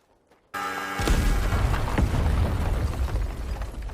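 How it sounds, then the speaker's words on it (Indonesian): Bomb explosion in a Thai comedy film: after near silence, a sudden loud blast erupts into a sustained roaring, rumbling burst with debris-like crackle continuing for several seconds. "Semua orang termenung melihat ledakan tersebut."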